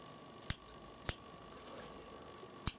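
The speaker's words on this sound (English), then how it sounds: "so I do need to use my scissors to cut my thread" Scissors snip sewing thread in three sharp, isolated clicks spaced about half a second to a second and a half apart, close and crisp against a quiet room hum.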